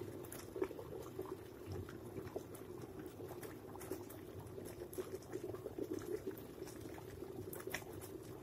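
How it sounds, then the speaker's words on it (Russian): An ordinary electric kettle that fails to switch off keeps boiling water with its lid shut tight, a quiet, steady bubbling and rumbling patter that runs on without pause. "Чайник кипит, отключения не происходит, крышка плотно прикрыта."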